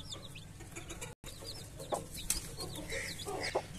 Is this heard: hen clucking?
yes